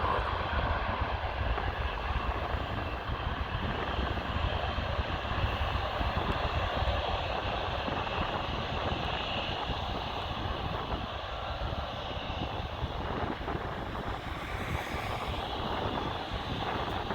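An airliner taxis at Amsterdam Schiphol airport near the Aalsmeerbaan runway, its jet engines giving a steady, moderately distant whine and rumble with wind noise and no talking.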